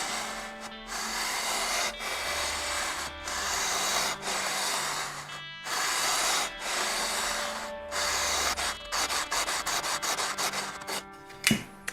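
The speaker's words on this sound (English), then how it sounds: "I will first of all use the sanding beam. It's got 150 and 240 sandpaper. I'll start with 150 just to clean it up." Sanding beam with 150-grit sandpaper rubbed back and forth along a wooden guitar neck, a steady close rasping in repeated strokes with short pauses, quickening into rapid short strokes near the end.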